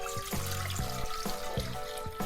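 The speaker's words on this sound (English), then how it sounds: "I'm gonna get water into my pot" Water running from a tap into a cooking pot for rice, a steady close splashing flow with a rising tonal ring as the pot fills.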